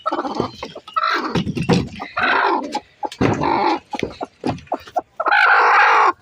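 A hen sitting on eggs clucks and squawks loudly and close by in repeated agitated bursts, with brief pauses between calls.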